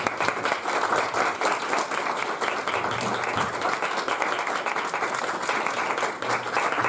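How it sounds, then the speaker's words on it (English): An audience claps loudly and continuously for a speaker, producing a thick, steady roar of applause with crisp individual claps and no clear talk for about seven seconds. "Yay, round of applause for Ali."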